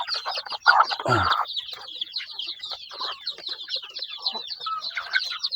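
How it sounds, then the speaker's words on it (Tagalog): Native chickens clucking busily outdoors as they are fed, with a dense chatter of overlapping clucks and chirps, one louder squawk near the start, close and lively throughout. "ganito lang po tayo magpakain dito sa mga nasa labas mga kanitid"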